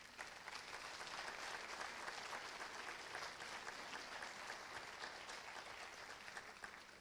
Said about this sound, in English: So ladies and gentlemen, please a round of applause for the admit students who are joining